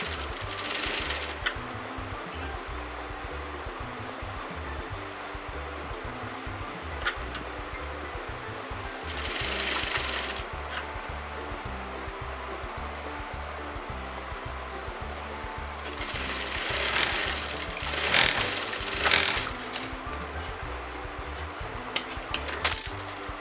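A sewing machine stitches pin tucks into fabric, with a steady fast mechanical chatter running throughout and a few brief bursts of brighter clatter and handling.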